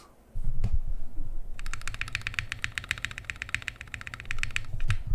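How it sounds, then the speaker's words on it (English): Rapid, close typing on a plateless, Holy Modded mechanical keyboard PCB makes a dense run of sharp clacks with deeper thocky bottom-outs, lasting several seconds. "it's gonna sound very similar to how I'm typing into this PCB"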